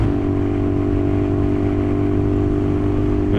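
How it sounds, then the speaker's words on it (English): Motorcycle engine heard while riding, a loud steady low drone with strong engine harmonics, continuous and close throughout, with no talk. "it just sounds like there's an engine below me"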